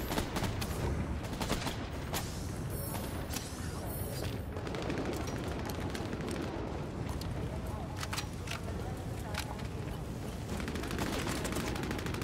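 Gunfire from AI enemies in the video game Bloodhunt, rapid bursts of shots crackling densely and loudly throughout, with a voice speaking over it at times.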